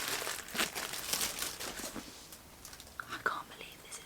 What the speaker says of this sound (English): So this is book 1. We're gonna unwrap her.